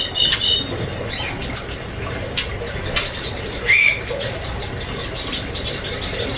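A caged Madura pentet trotol shrike calls loudly and close with sharp, scattered chirps and whistles over steady rustling and wing flutters.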